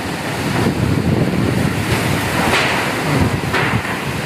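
During a storm, heavy wind and rain roar steadily and loudly, a dense broadband rush with periodic surging gusts, no talking present.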